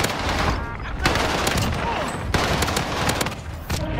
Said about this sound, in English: They shooting at me from the roof.